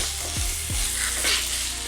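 Biryani masala sizzles loudly in a pan while a spoon stirs it, with a few quick scraping strokes over a continuous hiss of frying.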